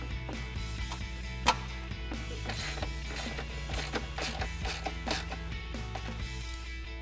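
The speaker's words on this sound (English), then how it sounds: "we'll tighten that down with our 10mm socket" Ratchet with a 10mm socket tightening a bolt on the air box of a 2015-2023 Mustang EcoBoost, giving close, rapid mechanical clicking over a continuous background hum.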